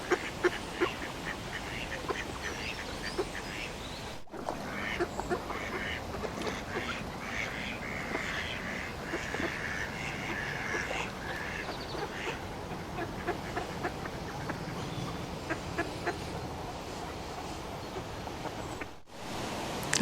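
Ducks quack on and off in an open outdoor setting, with other birds faintly in the background and a soft steady ambience.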